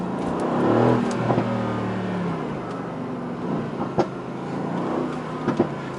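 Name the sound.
bi-turbo sports car engine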